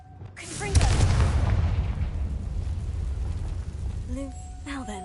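A Confringo blasting spell from Hogwarts Legacy goes off as a sudden loud burst, then a rumbling roar that slowly fades over several seconds, with brief voices near the end.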